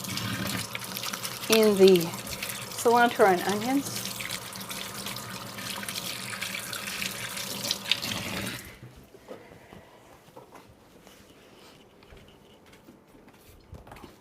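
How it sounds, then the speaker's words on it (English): A kitchen faucet runs steadily while hands are rinsed under it, a continuous rushing flow, then the water cuts off abruptly partway through. A person talks briefly over the running water. "Going to rinse my hands off"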